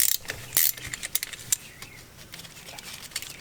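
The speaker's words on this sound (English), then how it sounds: "this other cable, you can take that off with a 12mm socket" A ratchet fitted with a 12mm socket works a bolt on a Toyota Tacoma during transmission removal, giving close mechanical clicks and bursts of ratcheting in an irregular rhythm.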